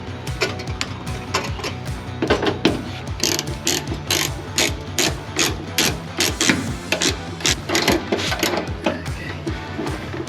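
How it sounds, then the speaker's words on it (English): A ratchet wrench clicks steadily and rapidly up close while fittings are tightened during brake hard-line installation on a Foxbody, with the regular pawl ratcheting running nearly nonstop. "I forgot the ratchet."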